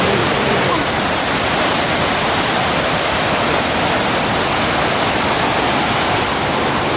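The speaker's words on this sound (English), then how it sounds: "we're now approaching like, I think the really big waterfall" Kuang Si waterfall in Laos roars as a loud, steady wash of rushing water, a dense unbroken noise close by with no other sounds standing out.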